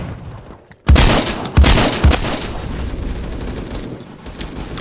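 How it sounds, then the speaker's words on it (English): Gunfire from a shotgun in the Roblox game Phantom Forces: three loud, close blasts in quick succession, with a sustained rumble of battle noise continuing after them. "he pumps the shotgun so fast"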